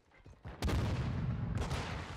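Gunfire in a Call of Duty match crackles in a dense, sustained burst of shots and booms, loud and continuous for most of the stretch, with no one talking over it.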